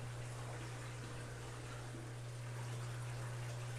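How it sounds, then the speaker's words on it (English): Water drains from a leaking trash can sump through a connected hose, a steady low trickle and gurgle under a constant hum, faint and continuous throughout. "Water's draining. Just makes things so much easier."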